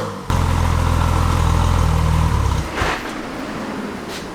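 A Porsche 911 Turbo engine idles with a steady low throb, then sags and cuts out about two and a half seconds in, leaving quiet garage ambience.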